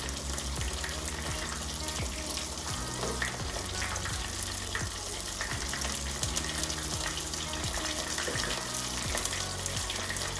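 Plaice fillet frying in a pan, a steady loud sizzle and crackle running continuously without pause, with faint low thumps underneath and no voices.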